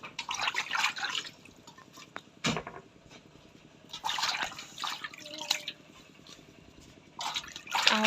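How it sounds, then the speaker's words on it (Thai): Freshly picked green onions are rinsed and swished in water, giving bursts of splashing and dripping separated by quieter pauses, close by with no talk. "ล้างไว้ก่อนเนาะ"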